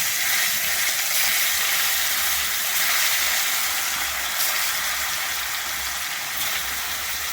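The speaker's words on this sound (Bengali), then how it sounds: "আমি এই তেলের মধ্যে এবারে মাছটা ভেজে নিচ্ছি" Rui fish frying in hot mustard oil in a pan, a continuous close hissing sizzle that stays steady and fairly loud throughout, with no one talking.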